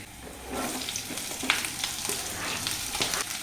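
Onions hit hot oil with green chilli, ginger and garlic, giving a moderate, continuous sizzle with a few small clicks of stirring in the pan.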